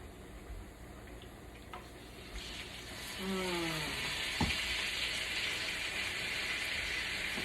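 A vegetable stir-fry sizzles in a pan just after liquid aminos are added. A steady hiss swells louder about midway and carries on with a brief clatter.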